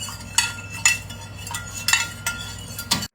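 A spoon stirs salt into water in a bowl, giving a series of sharp clinks against the sides roughly every half second, close and clear with no talking.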